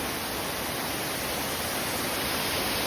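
A waterfall in the Konkan hills near Chiplun pours with a dense, even roar of rushing water, steady and loud throughout with no voices.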